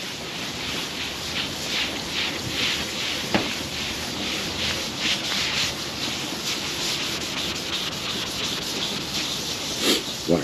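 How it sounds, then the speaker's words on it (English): A part from a 1974 GMC Sierra is scrubbed with Comet cleanser, a continuous close, gritty rubbing with a steady back-and-forth texture and a few sharp clicks. "I'm gonna throw a little bit of the old Comet on here, and then dip it in the old mix. Just give it a little scrub."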